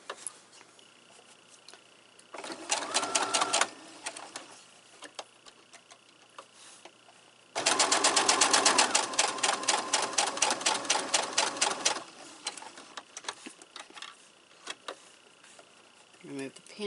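A sewing machine stitching a small four-patch quilt block runs in two bursts of rapid rhythmic clatter, a short one then a longer one, with quiet pauses between.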